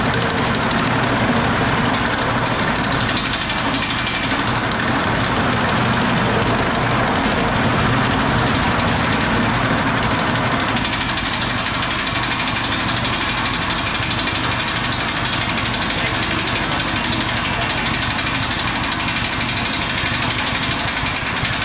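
A metal shaping power hammer rebuilt from scrap metal runs nonstop at close range: a loud, dense, rapid mechanical pounding with a rattling, vibrating drone that holds steady for the whole stretch.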